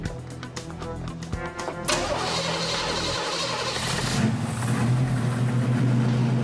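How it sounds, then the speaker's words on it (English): The supercharged small-block V8 of a 1969 Camaro under restoration cranks with rapid starter clatter, catches and fires, then settles into a loud, rough, steady idle close by. "This supercharger fix has the small block ready for business."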